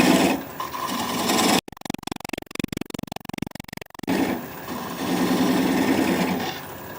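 Oak bowl being turned on a wood lathe, with a steady mid-range motor hum interrupted by a few seconds of rapid, choppy scraping as the gouge cuts, then the smooth whir returns at close range.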